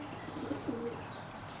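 Racing pigeons in an 18-foot loft, soft low cooing murmurs at middling distance over a steady background hiss, a few faint chirps higher up and no talk.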